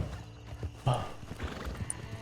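Horse hooves clip-clopping in the video game Red Dead Redemption 2, several quiet hoofbeats with a brief whinny from the horse partway through.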